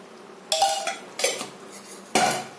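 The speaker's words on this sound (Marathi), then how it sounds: "याच्याने फिरून घ्यायचं म्हणजे गडे फुटून जातात" A spoon scrapes and clinks against a pot in three distinct bursts while ragi flour kheer is stirred to break up lumps, close and fairly loud with quiet pauses between.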